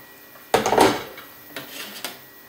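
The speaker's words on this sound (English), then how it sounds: "just give it a stir so that everything sort of gets coated in the boiling water" A spoon clatters and scrapes against a mixing bowl while stirring apple and date cake batter with a cup of boiling water just added, in a few short, close bursts with quiet pauses between.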